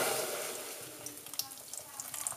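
A can of Guinness warms in a pan on the stove, giving a soft, close sizzle and bubble with light clinks and stirring noises toward the end.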